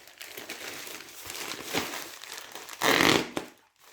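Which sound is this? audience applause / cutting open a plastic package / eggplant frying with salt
cutting open a plastic package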